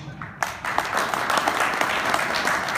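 Audience applause greeting a patent attorney lecturer at a lecture, bursting in abruptly and holding as steady, dense clapping from many hands for a few seconds.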